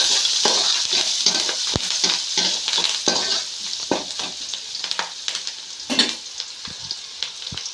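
An onion-and-spice mixture for uggani, with a pinch of turmeric just added, fries loudly in a pan while a spatula stirs it, a close, crackling sizzle cut by frequent scraping clacks.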